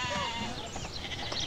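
Sheep bleat repeatedly from a flock at a Romanian sheepfold, overlapping wavering cries heard near and fairly loud against outdoor ambience.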